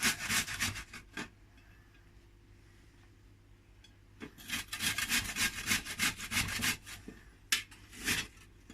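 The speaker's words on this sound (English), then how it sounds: "Okay, so you need to scrape your potatoes." Potatoes are scraped by hand in a home kitchen, giving close, steady, rhythmic rasping strokes. A short burst of scraping is followed by a quiet pause, then a longer run of repeated strokes.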